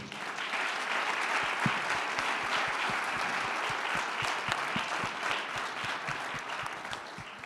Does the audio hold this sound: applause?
yes